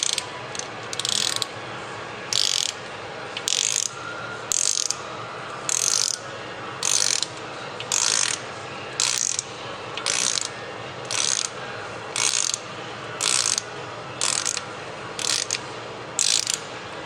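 A ratchet wrench turns a 14mm socket on a Subaru. Loud, close clicking comes in regular bursts about once a second, each burst a rapid run of pawl clicks, with no voices.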